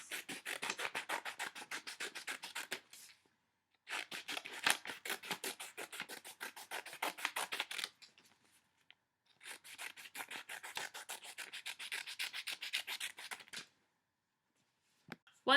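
Scissors snip construction paper into strips in three long runs of rapid, steady cuts with short pauses between. The sound is close and crisp, with no talking.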